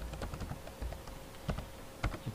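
Keystrokes on a computer keyboard come in irregular clusters, with several sharp clicks and a few louder taps standing out. The typing is close and clear, with no voices.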